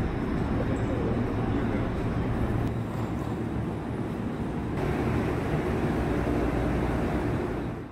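Steady low rumble and broadband roar of a new KTX-EUM high-speed train at a Korean railway station in the early morning, a continuous heavy mechanical drone at close range with no clear breaks.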